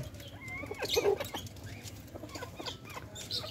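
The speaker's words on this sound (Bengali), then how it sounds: "এই যে পাশেও এই গলা ছোলা মোরগ, এটা গলা ছোলা মোরগ।" Naked neck chickens cluck softly and intermittently in a caged poultry farm, with faint rustling and scattered short calls at low volume.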